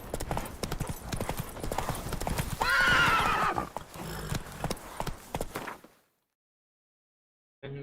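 Roach, Geralt's horse in The Witcher 3, trots with steady clip-clop hoofbeats and lets out a loud whinny midway, with low game ambience and faint voice, then the sound cuts to silence near the end.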